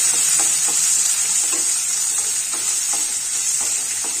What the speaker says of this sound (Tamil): இதோட 2 பூண்டு பல்லு, இது நல்லா வறுத்துக்கலாம்